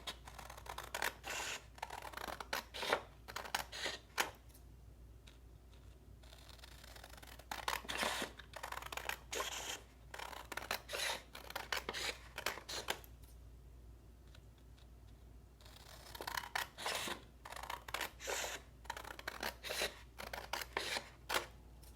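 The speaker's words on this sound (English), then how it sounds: "I'm going to take my scissors and I'm going to cut along the lines that I just drew." Scissors cut along pencil lines through paper strips for an origami bracelet, close and quiet, in bursts of rapid crisp snips and rasps separated by short pauses.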